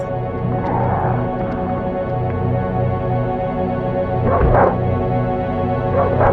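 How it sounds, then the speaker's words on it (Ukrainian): Dogs in the Darkwood horror game bark from a distance, a few muffled bursts rising over a steady low ambient drone. "Я чую, як там собаки оруть."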